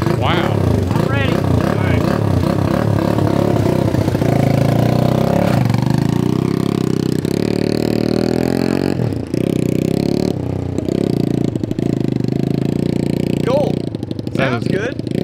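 An old Honda CL125 motorcycle engine, running after sitting 40 years, runs loudly and continuously up close, rumbling and revving, while people talk over it.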